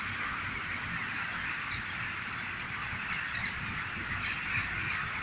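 A large flock of roosting crows and other birds gathers at dusk in a city park in Kaliningrad, a dense continuous chatter of many distant calls that blends into a steady wash of sound.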